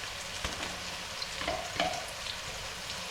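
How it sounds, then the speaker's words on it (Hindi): Ginger garlic paste hits browned onions frying in a pan, giving a steady soft sizzle with small crackles and a few stirring scrapes, fairly quiet and with no talk. "तो इसमें हम डालेंगे अदरक लहसुन का पेस्ट"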